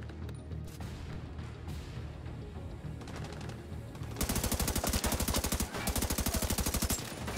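Automatic gunfire in The Division 2, sparse shots at first giving way to a dense, rapid burst of loud rattling rounds over the last three seconds.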